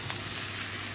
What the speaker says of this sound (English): So why are we frying them first?